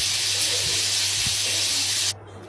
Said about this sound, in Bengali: প্রথমে চিংড়ি মাছগুলো হলুদ লবণ দিয়ে ভেজে নেব।